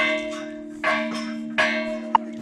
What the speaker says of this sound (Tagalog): Nabihan ko na ang kampana ng simbahan.